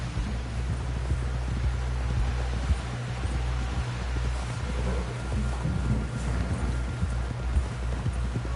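Horse hooves clip-clopping in the video game Red Dead Redemption 2, a steady rhythmic trot of soft thuds at moderate distance over a constant wind and rustling ambience.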